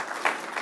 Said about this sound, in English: Everyone give a round of applause for Nathaniel.